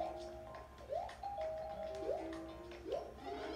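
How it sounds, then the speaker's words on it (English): A chiming doorbell sound effect from the video game New Super Mario Bros. U rings about three times in short rising two-note bursts over quiet game music. "Quit ringing the doorbell."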